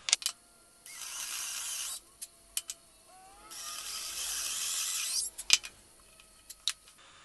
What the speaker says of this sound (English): here I'm just going to drill a shallow hole and I'll be gluing a dowel in place